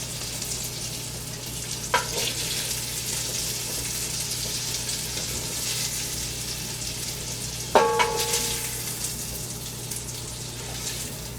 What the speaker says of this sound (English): the oil that came from the sausage, that's what I'm going to saute the rest of those vegetables in